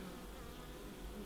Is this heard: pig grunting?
no